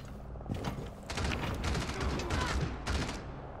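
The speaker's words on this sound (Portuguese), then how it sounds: "Tem tiro pra caralho na porra da Valkyria" Rapid gunfire bursts and shots in the video game Rainbow Six Siege, a dense, continuous clatter of automatic fire with heavy impacts, loud and close.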